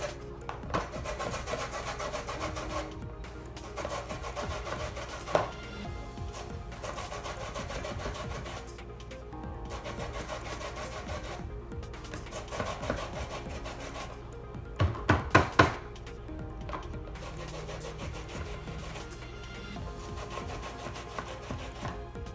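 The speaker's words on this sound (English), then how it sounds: "So I'm gonna use this grater to get the orange rind" Orange rind is rubbed against a handheld grater in a kitchen, a steady run of close rasping scrapes repeating throughout, with a few sharper knocks and clatters near the middle.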